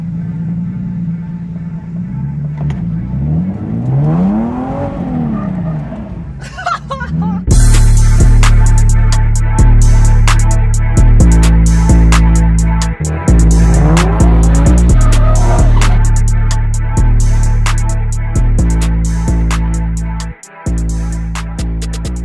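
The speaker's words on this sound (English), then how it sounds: "Traction control's completely off. Ooh. Yep, so it fully spins." A Nissan 370Z NISMO with traction control switched off revs hard and spins its wheels, the engine climbing and falling loudly before a sustained roar with tire squeal, close by.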